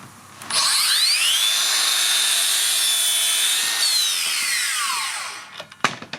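Makita LS002G 40V cordless mitre saw spinning up and slicing through a hardwood 4x2, a steady loud high whine through the cut, then winding down with a few clunks at the end.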